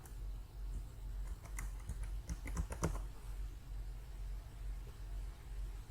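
Keys clatter on a computer keyboard as a password is entered, a quick cluster of clicks in the middle over a steady low background hum, with no talking.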